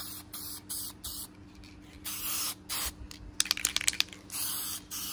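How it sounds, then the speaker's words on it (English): Black spray paint hisses onto a Kraken Sidewinder model in repeated short bursts of aerosol spray, some close together, with a quick run of rattling clicks from the can partway through over a low background hum. "So I'm just gonna spray on here"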